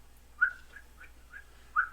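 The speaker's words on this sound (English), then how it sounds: "so I figured whistling." A person whistles a few short, quiet, chirping notes in an irregular rhythm against near silence.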